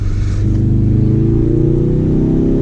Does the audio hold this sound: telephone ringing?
no